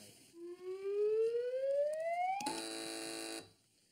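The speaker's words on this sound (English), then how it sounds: "Fingers on buzzers, teams." A single electronic buzzer tone on a TV panel quiz show rises steadily in pitch, then jumps to a loud, flat harsh buzz that holds for about a second before cutting off.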